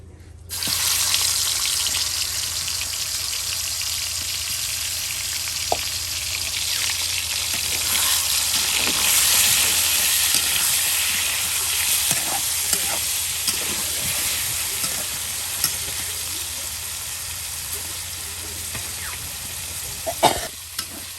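Chicken pieces coated in turmeric fry in hot oil with a loud, steady sizzle that runs throughout. Occasional clinks of stirring break through it.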